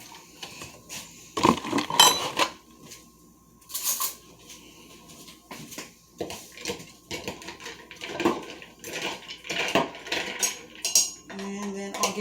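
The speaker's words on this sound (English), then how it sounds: "All right, and get that stirred." A spoon clinking against a cup while espresso is stirred into a drink, with irregular metallic taps and scrapes, close and fairly loud, among other kitchen clatter and a brief tone near the end.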